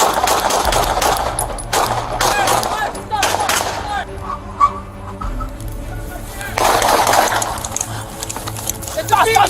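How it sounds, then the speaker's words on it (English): Gunfire erupts during a tense police confrontation with an armed man in Boise, sharp repeated cracks and bursts layered over shouting voices and loud, chaotic background noise. "Shots fired."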